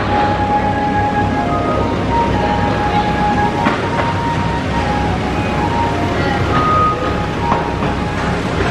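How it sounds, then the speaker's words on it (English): A theme park train at Oakwood rumbles along with steady rolling noise and faint metallic squeals, heard from on board, continuous and fairly loud with no clear voices. "we're jumping on the train to take us back into the main park itself"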